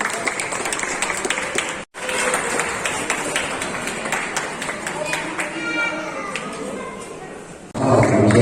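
Clapping from a crowd at a free medical health camp in Telangana, a dense patter of many hands that drops out briefly near two seconds, then resumes and swells louder at the end, with voices mixed in.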